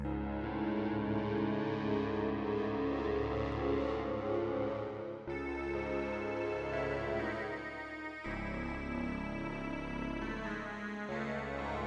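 A VPS Avenger 2 synth patch with unison, low cutoff, long release, reverb and delay plays sustained, thick chords that shift in a few blocks, washing into echoing tails, with no talk.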